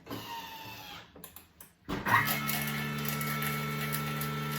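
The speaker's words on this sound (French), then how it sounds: "là je vais mixer pendant 5 secondes à vitesse 7" A Thermomix running at speed 7 while preparing a stuffed roast chicken recipe starts after a brief pause and settles into a steady, loud motor whir with a strong hum, continuing alone to the end.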